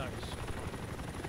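A helicopter in the video game ArmA 2 thumps with a steady, loud rotor chop, and someone talks over it.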